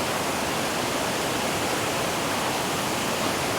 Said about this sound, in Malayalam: കുത്തൊലിച്ച് വരുന്ന വെള്ളത്തിൽ നിന്ന് പാറപ്പുറത്തുകൂടെ ഇങ്ങനെ വെള്ളം